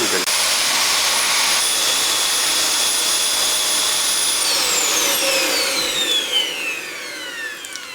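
Cordless stick vacuum cleaner with a small brush attachment running close by, a loud steady high-pitched motor whine and airflow hiss that drops in pitch as it powers down near the end, with no talk.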